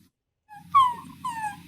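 A human voice imitates a puppy whimpering with two short, high, thin whines after a moment of silence, close and quiet.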